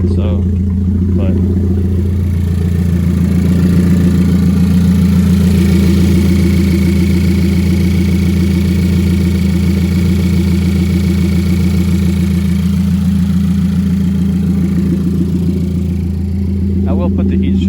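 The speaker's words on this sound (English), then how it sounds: "Rev it really loud because I am in a neighborhood" A Ford Focus ST with a catless exhaust runs with a loud, close, steady droning engine note that swells slightly in the middle before easing back.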